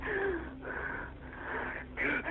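A woman out of breath after a shooting gasps and wheezes in ragged, strained breaths, close and fairly quiet, with a few breathy voiced sounds between pants.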